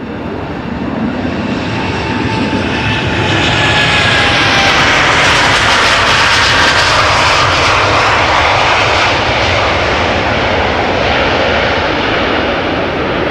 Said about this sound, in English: KLM Flight 691 taking off to Toronto, 787-10 Dreamliner over here